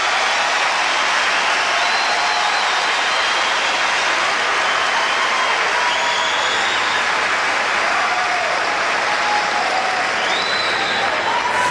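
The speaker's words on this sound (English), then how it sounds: "Crowd's getting on its feet. They're pumped up." A tennis crowd at the 2003 US Open semifinal roars with sustained applause and cheering, loud and steady throughout, with faint whistles rising above it and a commentator's voice underneath.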